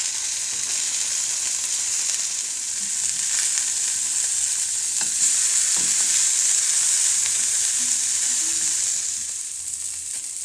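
Fish fillets sizzle steadily in a hot frying pan, a continuous bright crackle with a few soft utensil clicks and light scrapes partway through, no voices.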